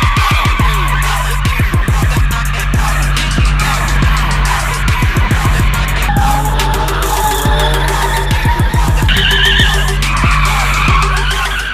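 Cars skidding and drifting at a festival drift show in Yerevan, with loud, sustained tire squeal over roaring, revving engines, continuous and close.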